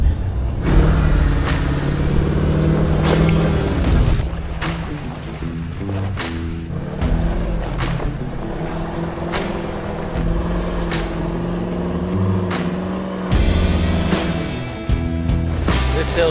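A vehicle climbing a big hill in two-wheel drive on snow, its engine droning and straining loud and steady throughout, with intermittent knocks and thumps from the ride over rough ground.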